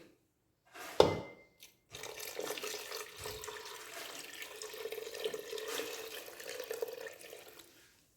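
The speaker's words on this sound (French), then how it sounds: "Maintenant, on augmente un peu d'eau." Water from a tap pours into a cooking pot while making Moroccan couscous, a clear close running stream lasting about six seconds after a short clank of the pot, with no talking.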